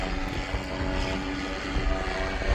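A helicopter flies overhead above the sea near a fishing kayak. Its loud, steady engine and rotor roar fills the whole moment without letup, and no voices are heard.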